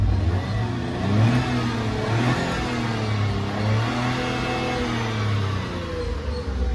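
Tata Altroz engine revving steadily after an accelerator pedal sensor replacement, a continuous mid-pitched drone that rises and falls in waves, loud and close with no talk over it.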